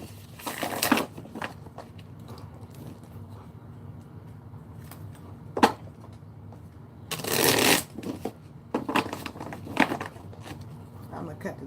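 A deck of tarot cards is shuffled by hand in a few separate bursts of riffling and flicking, close and crisp, with quiet pauses between them.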